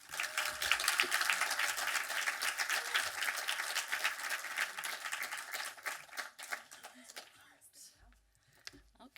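An audience at an evening archive film talk applauds to welcome speaker Marsha Gordon to the stage, a dense crowd of steady clapping that thins out and fades to scattered claps near the end.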